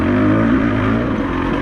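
A Beta 200RR enduro dirt bike engine lugs and revs steadily at close range on a forest trail, a loud continuous throaty drone with no talking.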